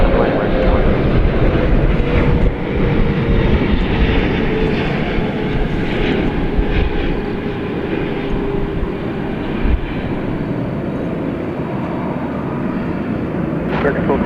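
A jet airliner takes off from DFW Airport, its engines producing a loud, continuous roar that fills the whole stretch while radio chatter from the control tower runs underneath.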